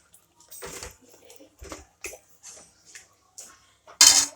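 Cooked urad dal being stirred in a pot: a run of short, separate clinks and scrapes of a spoon against the metal, ending in one louder clatter. No voices.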